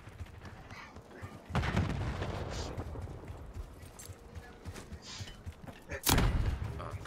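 A frag grenade detonates in Black Ops 6 multiplayer, two heavy thudding blasts several seconds apart amid loud, noisy battle sound, with some voice chat under the din.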